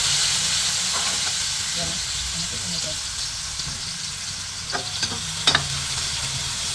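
Garlic frying in a pan, with a steady broad sizzle and hiss throughout, some stirring scrapes and a few sharp pops near the end, while a voice speaks briefly over it.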